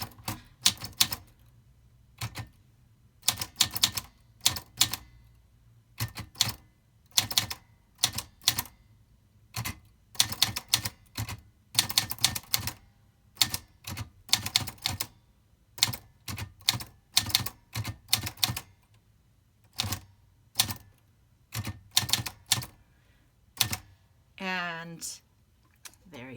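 Keys strike on a secondhand manual typewriter in sharp, close clacks, arriving in irregular bursts and pauses of steady typing, with a bell-like ring and carriage sweep near the end.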